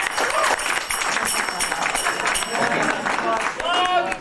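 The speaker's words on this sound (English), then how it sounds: "He deserves an applause." An audience at a furry convention gathering breaks into applause, a dense patter of clapping that swells and dips while a voice keeps talking over it.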